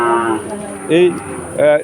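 Cattle and calves at a rural cattle market in Bagerhat moo repeatedly, three drawn-out, fairly close calls separated by short pauses.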